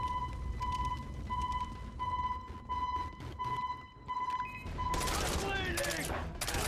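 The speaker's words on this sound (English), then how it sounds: "it's the fucking burst fire gun" Rapid bursts of gunfire from a burst-fire rifle in the Far Cry 3 video game, short clustered volleys repeating over a steady tonal beep, then a dense loud barrage near the end.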